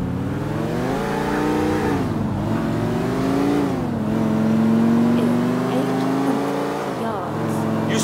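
A car driven in the video game Grand Theft Auto IV, its engine droning steadily and rising and falling in pitch as it accelerates, loud and continuous throughout.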